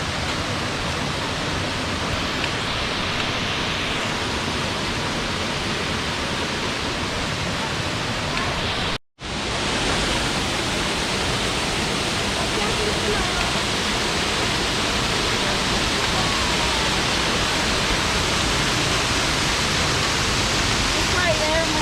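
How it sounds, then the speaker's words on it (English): A large waterfall rushes in the Grampians, a steady, dense roar that stays loud and unbroken apart from one brief cut. "Big waterfall."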